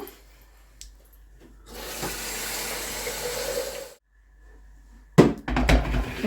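Water runs from a tap into a kettle for about two seconds as a steady hiss, then stops. Clattering and handling noises follow close by.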